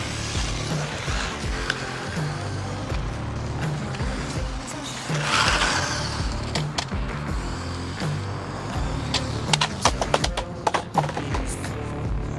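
A cheap small RC car drives on grass, its motor whining and chattering steadily as the tyres churn through the turf, with louder clicks and rattles toward the end.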